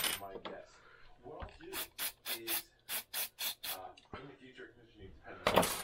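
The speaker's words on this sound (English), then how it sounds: "Scrape the carbon off of that contact." Short, sharp scraping strokes clean carbon off a power seat switch contact from a 2008 Kia Optima, a quick run of rasping bursts with a voice talking softly in between.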